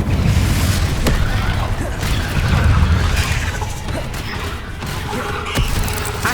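A Confringo blasting curse explodes in the Hogwarts Legacy video game, a loud, rumbling boom with sharp crackling bursts over a dense, continuous combat din.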